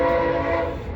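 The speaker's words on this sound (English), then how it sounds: "here comes the train again" A passing train sounds its horn in a loud, sustained, close blast over the rumble of rail cars, heard from a home garage with no talking.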